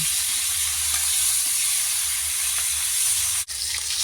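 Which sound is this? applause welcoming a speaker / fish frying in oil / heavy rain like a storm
fish frying in oil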